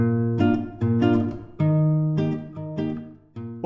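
A guitar plays the chord pattern of a song from A Knight of the Seven Kingdoms, with short strummed chords alternating with muted strings in a choppy rhythm, close and clear with no voice.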